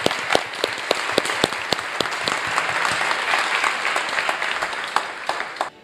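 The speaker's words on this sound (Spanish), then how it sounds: "un aplauso para todos de allá atrás." An audience applauds helpers at the back of the room during a Spanish-language appreciation event, a loud, dense burst of many hands clapping with sharp individual claps standing out, sustained and then cutting off abruptly.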